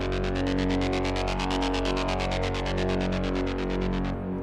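A loud, buzzing distorted synth tone pulses in a fast, steady tremolo, the throbbing rhythm holding throughout before cutting off abruptly.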